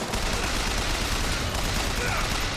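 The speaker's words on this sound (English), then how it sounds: "Oh, it's a turret." Turret gunfire in the shooter game BioShock Infinite, a dense continuous rattle of rapid shots that stays loud and steady throughout.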